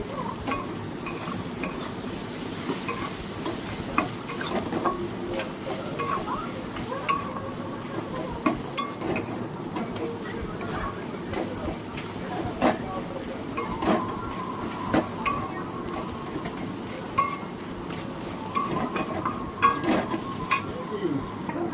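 Turmeric and cumin spice paste fries in a pan, with a continuous low sizzle and scattered clicks of stirring running for a long stretch at moderate volume, with no talk.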